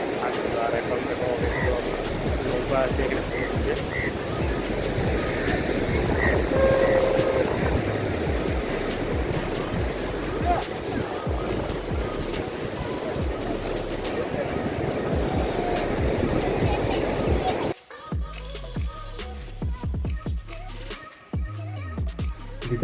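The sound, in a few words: ocean waves breaking on the beach at Puri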